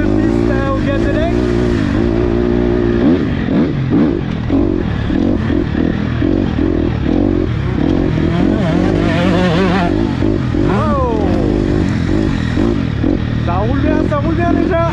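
Motocross bikes take their first laps on a rain-soaked dirt track, engines loud and close, revving and rising in pitch through continuous overlapping passes with steady roar throughout.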